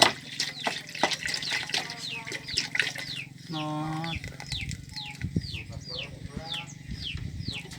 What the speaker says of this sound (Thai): เอากะทิลงไปพี่น้อง